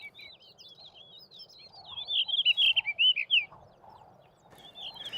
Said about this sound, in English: the blue rock thrush.